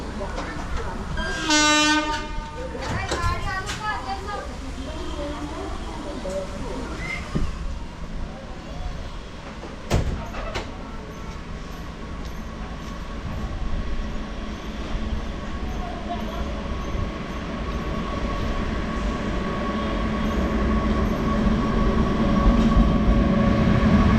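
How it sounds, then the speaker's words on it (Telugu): Indian Railways Kakinada Weekly Superfast Express hauled by a WAP-9 electric locomotive arrives with a loud horn blast early on, then a steady rolling rumble of carriages that grows louder toward the end. "సో వ్యాబ్ 9 లోకోమోటివ్ అయితే పుల్ అయితే వస్తుంది. Kakinada weekly super fast express."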